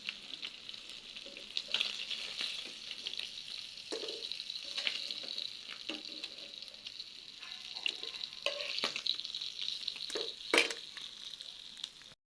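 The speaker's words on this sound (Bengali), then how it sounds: "মাছগুলোকে আমি হালকা লাল করে ভেজে নেব।" Small jhatka fish fry in a pan in a steady, bright sizzle with scattered crackles and pops, plus occasional stirring scrapes, close and continuous.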